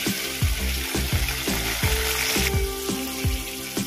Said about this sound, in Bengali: আদা, টমেটো, কাঁচা লঙ্কার পেস্ট বানিয়ে রেখেছি,